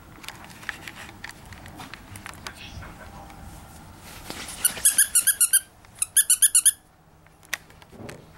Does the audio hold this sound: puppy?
yes